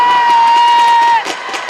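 An arena crowd at a men's basketball championship game roars and cheers loudly, a dense, steady wall of voices with a sustained whistle-like tone above it before it breaks into scattered shouts.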